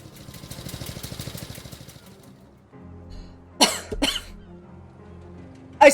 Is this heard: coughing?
yes